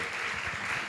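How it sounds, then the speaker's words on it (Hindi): An audience claps together at a Jain scripture assembly during the Ashtanhika festival in Laxmi Nagar, a brief, steady burst of many hands with no pauses. "चलो ताली बजा दो।"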